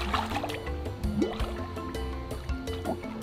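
A person plunges fully underwater in a swimming pool, bringing muffled gurgling, bubbling and low sloshing, with a few brief bursts of bubbles throughout and no talk.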